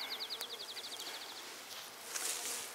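Honey bees buzz around a frame carrying a capped queen cell in a queen castle hive, a faint, close, wavering hum that pulses in rapid repetition, then gives way to soft rustling.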